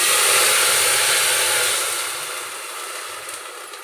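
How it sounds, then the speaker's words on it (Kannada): Water poured into a hot pot of browned garlic sets off a loud, steamy sizzling hiss that gradually settles and fades. "ನೆಕ್ಸ್ಟ್ ನೀರು ಹಾಕಬೇಕು."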